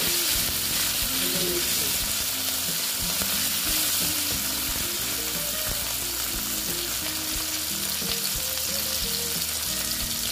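Cut tomato sizzles and crackles in hot oil with black cumin seeds in a pan, a loud, continuous frying hiss with stirring scrapes, and no one speaks.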